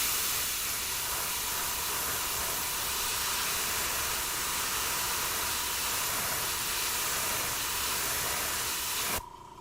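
Paint sprays in light overspray passes to build a cloud effect. A close, steady, even hiss runs for about nine seconds, then cuts off abruptly.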